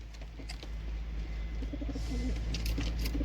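Kulbacki breed pigeons cooing in a loft of older young birds ready for breeding, soft low repeated coos near the middle of the clip over a steady background hum.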